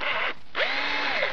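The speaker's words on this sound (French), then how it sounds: "je le mets au bout de ma perceuse et vous voyez que ça tourne" An electric drill spins a homemade paint mixer, giving a loud close whine that cuts out briefly, then spins back up with a rising pitch and steady buzzing tone.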